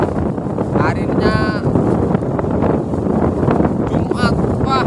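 Strong southwest wind buffets the microphone at sea during a fishing trip, a loud, constant roar that fills the whole clip, with brief higher tones rising through it.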